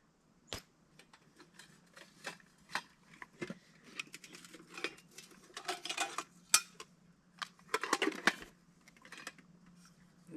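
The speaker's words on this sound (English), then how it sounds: "This is a cutting board." A cutting board and hefty stainless steel camping cookware from a canoe river trip clatter and clink as they are handled, with irregular knocks and scrapes, a busy burst midway and again near the end.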